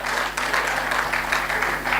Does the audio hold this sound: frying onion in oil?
no